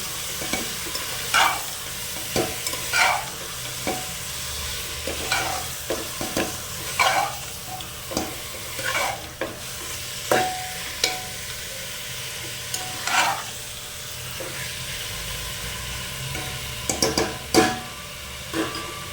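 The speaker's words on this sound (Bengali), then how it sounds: "এবার চিকেনটা আমরা পেঁয়াজের সাথে ভালো করে মিশিয়ে নেব।" Chicken and onions are stirred in a frying pan over a low, steady sizzle, with repeated close scraping strokes of the spatula at irregular intervals and no speech.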